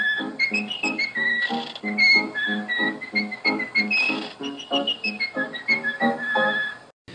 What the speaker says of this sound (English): Why don't you whistle us a tune on your way out?